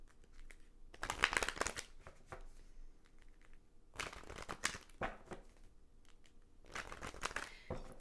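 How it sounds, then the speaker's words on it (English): A tarot deck is shuffled up close in quiet bursts of papery riffling and crinkling, separated by short pauses. "as I'm shuffling the deck"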